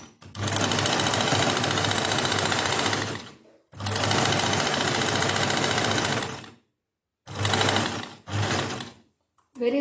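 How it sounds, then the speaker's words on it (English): A sewing machine stitches the 1-inch side seams of a cushion cover in three loud, steady runs, each stopping abruptly, with two short bursts and a brief stop near the end. "So we are just stitching the side seams"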